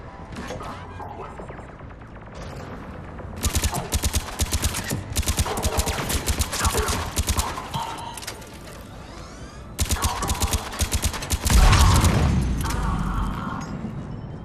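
Rapid mechanical bursts of heavy cannon fire in a Mass Effect 3 battle, repeated volleys with booming impacts and clanking machinery, loud and dense, with occasional voices in the mix.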